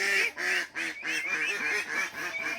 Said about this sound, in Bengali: এই যে পুকুরের দিকটায় হাঁস ছাড়লে পরেই ওদের চেঁচানোটা বন্ধ হবে